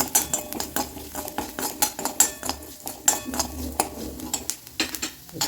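Metal spoon scraping and clinking in a pan as cumin, fennel, roasted gram, cinnamon, cloves, star anise, cardamom and ginger dry roast; steady close rhythmic stirring clatter with repeated sharp taps, no talking.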